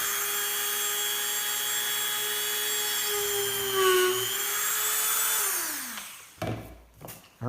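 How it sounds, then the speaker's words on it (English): A power drill bores two quick holes into a wooden dowel resting on a 2x6 scrap on a workbench: a steady high whine that dips under load, then winds down, with a few knocks as the bit stops. "I'm going to drill those really quickly"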